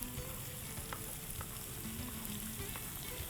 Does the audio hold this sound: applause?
no